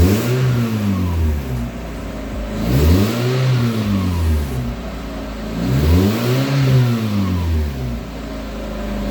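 A Mazda Miata fitted with a makeshift cold air intake revs up and settles back three times in a repeating rise-and-fall pattern, the engine loud and close with no talking.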